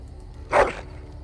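A single short dog bark from the video game Dragon Age Origins, sharp and fairly close, over quiet game ambience.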